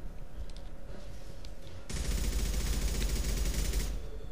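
Rapid automatic gunfire rattles continuously in the sci-fi shooter game Mass Effect 2. It bursts in louder partway through over steady background combat noise, with no voices.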